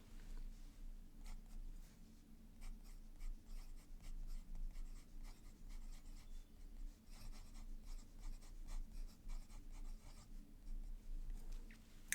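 A double broad fountain pen nib scratches across paper in a continuous, close, quiet run of strokes with a soft papery rasp, no voices.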